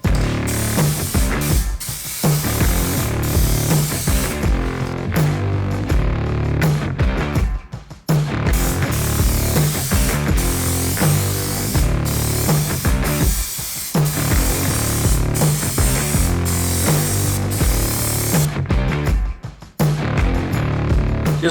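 A spray gun hisses paint onto a Porsche 996 Turbo in long continuous bursts, with a few brief pauses between passes; no talking.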